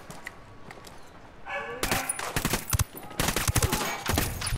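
Gunfire in Ghost Recon Wildlands, dense bursts of rapid automatic shots with thumping impacts, loud and close, following a short quiet stretch.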